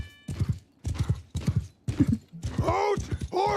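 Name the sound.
horses clip-clopping in a video game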